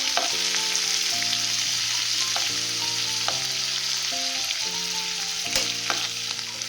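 Onion paste sautéing in a pan for pav bhaji, a constant bright sizzle under a steady low musical tone from nearby, with occasional soft scrapes of stirring.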